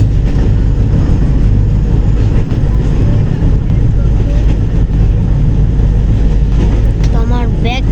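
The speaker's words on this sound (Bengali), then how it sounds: "আমাদের ট্রেন কিন্তু আস্তে আস্তে ব্রেক করছে, সম্ভবত স্টেশনের কাছাকাছি চলে এসেছি।" A train slowing and braking as it nears a station, heard from inside: a loud, low rumble with rattling runs throughout, and a faint squeal appears near the end.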